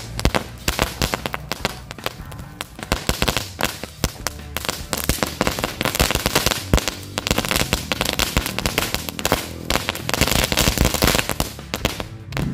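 Rapid, loud crackling bursts of fireworks going off in quick irregular succession, close by, with dense popping and bangs throughout.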